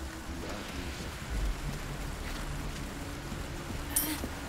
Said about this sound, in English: It's just pissing down rain.